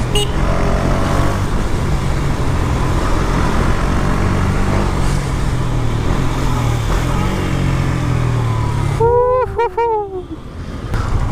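A Duck 250 motorcycle running on the road after a downshift, its engine droning steadily under traffic noise, then a brief rising whine near the end as revs change.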